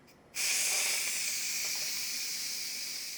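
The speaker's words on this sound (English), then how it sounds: "Let's do a quick release on the steam." Pressure cooker switched from sealing to venting for a quick release, loud steady hiss of escaping steam bursting on after a brief quiet start and holding strong while slowly easing off, no talk.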